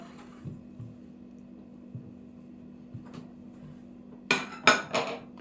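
A few quiet knocks over a low electrical hum, then three sharp, louder clanks of pots and dishes near the end as a pot of stuffed onions is set up in a kitchen.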